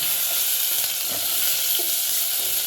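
Ingredients for sambar sauté in a hot pan with a steady, close sizzle and soft stirring scrapes, with no talking.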